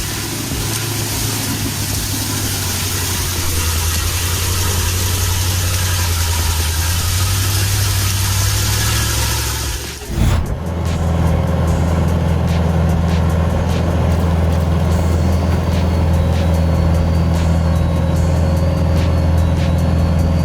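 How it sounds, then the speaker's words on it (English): A Ural military off-road truck drives through rough terrain, its engine droning loud and steady with a brief dip midway before the rumble resumes at full strength. "Where other vehicles would sink, the Ural just keeps on rolling."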